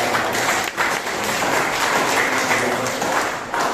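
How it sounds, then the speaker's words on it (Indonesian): A church congregation in Madiun applauds steadily, a dense continuous wash of many hands clapping with no speech over it. "Tepuk tangan buat teman-teman"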